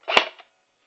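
A P90 airsoft gun fires one sharp, snappy shot on semi-auto, close and loud, followed by a faint mechanical click and then silence.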